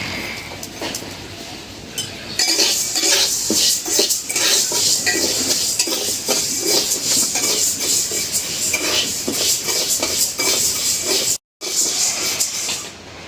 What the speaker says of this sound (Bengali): ডালগুলি কত সুন্দর ভাজছে